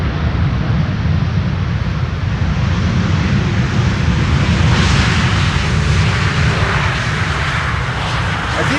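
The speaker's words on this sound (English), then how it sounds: "Ooh, reversers." Aircraft engines roar loudly as thrust reversers deploy on landing at Schiphol's Polderbaan runway 18R, a sustained, powerful rumble that swells and holds close by.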